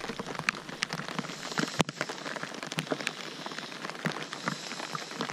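Steady rain pattering on a surface nearby at a pond, with scattered louder drops and taps throughout, continuous and even.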